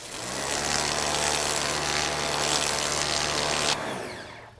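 A 3,000 PSI electric pressure washer sprays steadily against grass and dirt, a loud, constant motor drone under a broad watery hiss that cuts off near the end.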